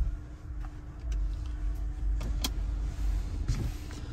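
A 2022 Mazda CX-5 Premium starts up, with a low engine rumble swelling in after about a second and holding steady, while a few faint ticks and clicks come from inside the cabin.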